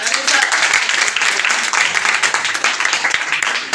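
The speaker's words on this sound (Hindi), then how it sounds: "जोरदार तालियां" A crowd applauds steadily for nearly four seconds, dense continuous clapping with a few cheers mixed in.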